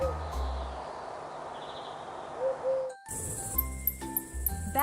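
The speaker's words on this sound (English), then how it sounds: "Owl." An owl hooting in a nighttime setting, a few soft tonal calls over steady background hiss, followed by a shift to brighter chiming tones.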